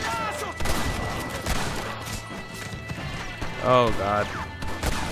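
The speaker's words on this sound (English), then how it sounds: "Who's shooting me?" Gunfire in the Western video game Red Dead Redemption crackles through a busy mix of horse hooves and a whinny, with a player's voice exclaiming over the action.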